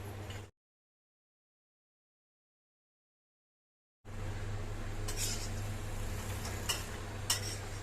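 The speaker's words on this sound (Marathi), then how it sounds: "खोबरं असं सतत परतत भाजायचं आहे." Dry coconut stirred and roasted in a pan for Kolhapuri ghati masala, soft scraping and occasional clinks of the spoon on metal over a low hum, briefly cut to silence before resuming.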